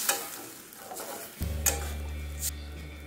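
Potato and lentil curry with water being stirred in a pot, a few scraping strokes followed by a steady bubbling simmer, close and moderately loud, with no talk.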